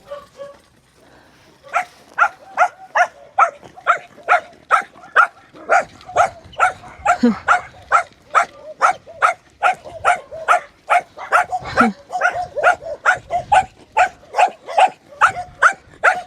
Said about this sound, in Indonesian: Lihat. Ngegonggong